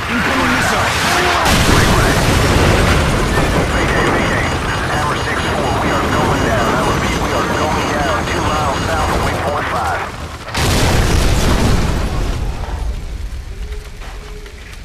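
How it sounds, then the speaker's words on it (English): An incoming missile strikes and explodes in Call of Duty Modern Warfare: loud, dense blast and debris noise with shouting voices, a brief drop, then a second heavy burst that slowly fades. "Incoming missile."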